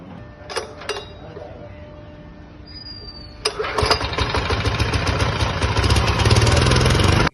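A Kama 7 horsepower model 173 engine on a mini power tiller starts up after a few clicks and settles into a loud, close, steady running chug that continues to the end.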